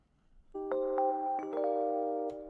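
High Rhodes electric piano accent in a studio: a few bright, bell-like notes struck one after another, ringing on as sustained tones and overlapping into soft chords, clear and fairly close.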